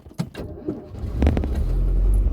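A classic Citroen D Super car engine cranks with a little choke and catches, rising into a steady, close idle after a few clicks and rattles at the start.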